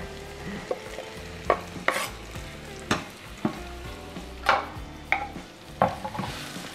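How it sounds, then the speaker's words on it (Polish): Onion sizzling and frying in hot oil, with a steady crackle and occasional sharp pops and stirring clatters; no voices. "na mocno rozgrzany olej wrzucam cebulkę"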